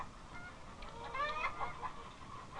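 Broiler chickens on a farm cluck softly in a brief, faint cluster of calls against a quiet background.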